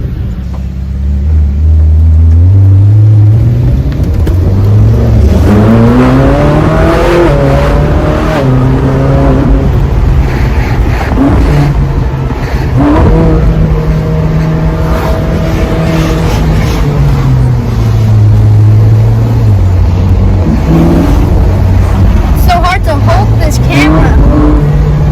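A Ferrari 458 Spider engine roars close and loud throughout, revving up and down through rising and falling pitches, with voices talking over the continuous engine noise.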